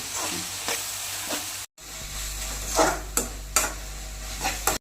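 Onions and chopped tomato sauté in a pan for chicken chukka with a close, steady sizzle, punctuated by several sharp spatula scrapes and stirs and one brief silent break.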